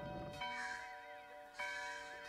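A bell rings twice inside a church in the game Diablo IV, each strike clear and resonant with a long ringing decay, set against sustained ambient game music.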